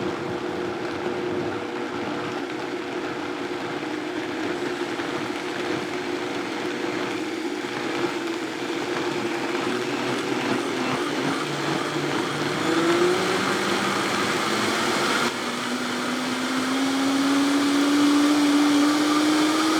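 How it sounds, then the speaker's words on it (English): A Vitamix blender runs continuously on a green smoothie, its motor whir steady and loud, then climbing in pitch toward the end as the speed is raised to high. "with this particular Vitamix, you start at the lowest setting and then you incrementally raise it up till you get to the higher setting"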